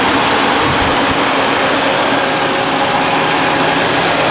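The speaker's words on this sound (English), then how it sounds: "Right now it's idling rather normally." A 1991 Mercedes-Benz 420 SEL engine idles at close range, a loud, steady, broad even roar with no revving or change in pitch, fan clutch disengaged.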